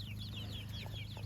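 Chickens in a backyard coop cluck softly in short repeated calls over a low steady hum, fairly faint and without voices.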